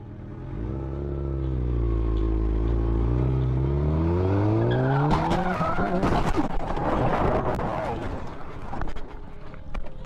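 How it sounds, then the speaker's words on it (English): A Camaro running a red light at an intersection and slamming into an SUV: a loud engine roar with rising pitch, then sharp tire skidding and a burst of crashing impact noise, with shouting voices. "a Camaro to his left runs a red light, slamming into the SUV just feet in front of Elizé, instantly creating a dangerous pileup"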